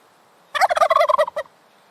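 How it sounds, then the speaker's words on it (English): A turkey gobbles once in a rapid, loud, close burst of rattling notes lasting about a second, with silence before and after. "turkeys are known for making some gobbling noises, some very distinct, clear noises"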